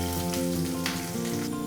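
Green chillies cut lengthwise sizzle in hot oil with garlic and ginger while chilli paneer is being cooked, a steady close crackling fry with a faint background hum.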